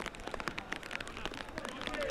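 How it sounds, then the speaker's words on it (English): Rain pattering steadily at an outdoor fastpitch softball game under lights, a soft continuous hiss of drops on surfaces with faint background voices mixed in. "The rain comes back a little bit harder again."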